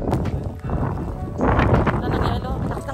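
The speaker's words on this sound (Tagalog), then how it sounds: "Lakas ng hangin." Strong wind roars and buffets during hail and snowfall in Armenia, a broad steady rush under a person talking.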